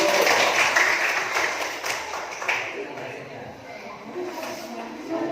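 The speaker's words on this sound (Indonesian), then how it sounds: "tepuk tangan untuk kelompok 1" Classroom applause for a student group during a teaching exam lesson, a dense wash of clapping hands that gradually thins out, with voices and chatter mixed in throughout.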